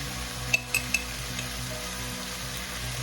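Pork sautéing with bagoong shrimp paste in a pan gives a steady, close sizzle, with a few quick metallic clinks early on and no voices.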